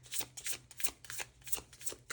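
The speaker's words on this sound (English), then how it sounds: "Sorry, I feel the need to shuffle one more time." Tarot cards riffled and shuffled by hand in a quick series of papery flutters and soft slaps, close and fairly quiet, with no talking.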